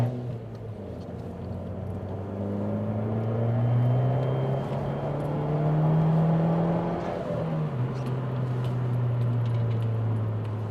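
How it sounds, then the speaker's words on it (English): Inside an Abarth 595 on the move with a back box delete exhaust, a loud, steady droning engine note that swells and eases with throttle changes, no talk. "you can still hear the back box delete because it's obviously super loud in this car"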